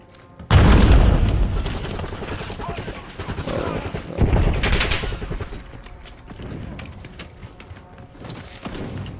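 A frag grenade blast in a shooter video game sounds as a sudden loud boom that rolls into rumbling, overlapping gunfire and further explosions. Heavy combat noise follows for several seconds, with voices underneath.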